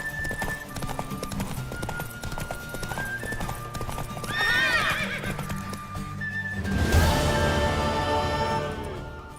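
Rhythmic hoofbeats of a horse clip-clop steadily under music in the video game The Witcher 3: Wild Hunt, with the horse neighing partway through and again near the end.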